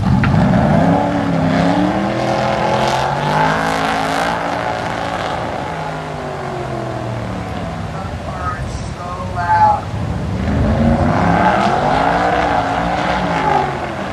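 Engines roar and whine continuously as a race car with an LS engine revs and shifts nearby on a track, pitch sweeping up and down, with a loud, steady mechanical drone throughout.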